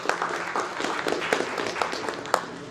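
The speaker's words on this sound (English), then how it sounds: "A round of applause." An audience at a higher-education conference applauds, a dense patter of many hands clapping steadily at moderate volume for a few seconds, with a few louder individual claps standing out.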